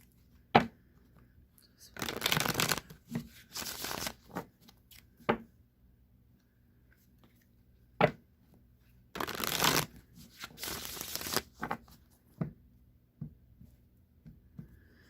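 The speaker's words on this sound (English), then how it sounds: "I'm going to shuffle the deck 3 times, cut the deck, and draw a card" Tarot cards being shuffled in several bursts of riffling and flapping, each lasting one to two seconds with quiet gaps between them and a few sharp taps as the deck is squared and cut.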